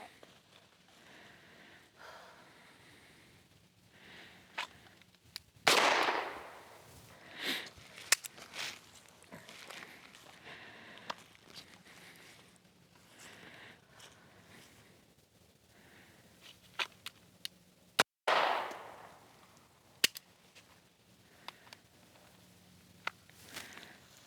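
Pistol shots ring out on a shooting range during draw-to-first-shot practice: two sharp, loud reports, each with a short decaying tail, separated by long stretches of near-quiet broken by faint handling clicks.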